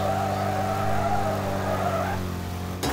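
A race car in Wreckfest roars across the finish line, its engine droning loud and steady with tire squeal layered on top before a sharp break at the end.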